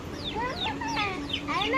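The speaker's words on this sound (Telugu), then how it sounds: "ఆ కోడి భయపడుతుంది" A chicken clucking close by in a series of quick, rising and falling calls, loud and continuous.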